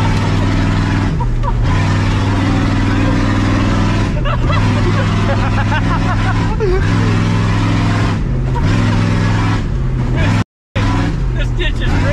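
A 7.3 IDI diesel garbage truck engine runs loud and close, with steady low harmonic droning and several rising revs, and voices talking over it.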